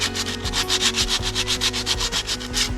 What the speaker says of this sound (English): Sanding is never fun.